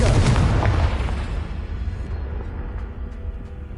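A Confringo fire spell explodes in Hogwarts Legacy with a heavy, deep boom that rolls out and fades over a few seconds, leaving a low rumbling tail with faint ticks and no voices.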